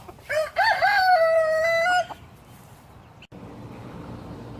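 A rooster crows loudly and close by, one long harmonic call lasting about two seconds, followed by quieter hen clucks and soft background noise from a backyard flock in Deep South Texas.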